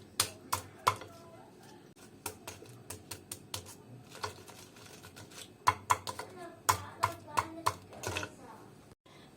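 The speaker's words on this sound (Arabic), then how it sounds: "انا نقطع لكم وحده باش تسمعوا التقرميشه" Knife cutting through a crispy fried cheese fritter, giving a series of sharp crackly crunches in irregular bursts, close and clear, with a voice talking briefly between them.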